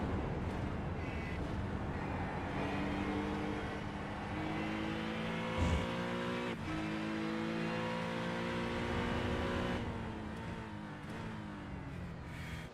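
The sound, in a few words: GT3 race car onboard at Silverstone, iRacing video game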